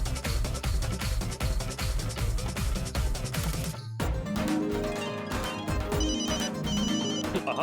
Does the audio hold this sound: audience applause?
no